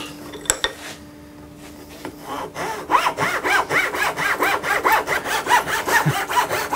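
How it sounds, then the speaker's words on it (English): Very blunt saw cutting wood held in a vise during an electric guitar build, a few clanks giving way to steady rhythmic rasping strokes, close and fairly loud. "that is the sound of a very blunt saw."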